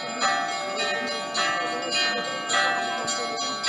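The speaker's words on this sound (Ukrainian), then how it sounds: "З самого ранку дзвони Михайлівського собору у Білогородці на Київщині скликають людей на службу" Church bells of St. Michael's cathedral in Bilohorodka, Kyiv region, peal for a morning feast-day service, several bells striking in overlapping rhythmic clangs with a rich ringing sustain, loud and continuous.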